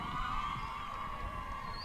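Excited crowd cheering at the 2019 Canadian Ultimate Championships opening ceremony, a faint distant mass of voices and shouts filling the space.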